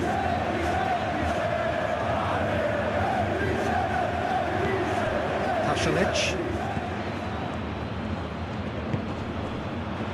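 Stadium crowd noise from a Serie A match in a football video game, featuring Empoli FC: a steady, loud wash of crowd murmur and chanting throughout, with a brief swell of cheering midway.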